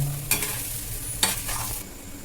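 Spiced potato filling for aloo chop is stirred in a pan: two distinct scraping strokes of a spatula over a low background sizzle, close and brief, with no speech.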